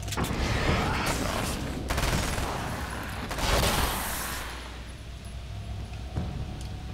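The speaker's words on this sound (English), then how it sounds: "I'm not going to keep using this Uzi or submachine gun or whatever. It just goes through ammo so quickly" Rapid bursts of Uzi submachine gun fire in the video game Alan Wake's American Nightmare, loud and close, with booming impacts and game ambience between volleys that fade toward the end.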